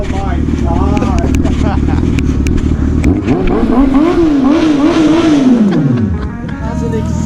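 BMW S1000 motorcycle fitted with an SC Project exhaust revs loudly and continuously, the engine note rising and falling in repeated swells, with excited voices talking over it throughout.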